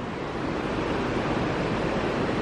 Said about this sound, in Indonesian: saya benar-benar tidak pernah melihat sekencang ini aliran Sungai Rua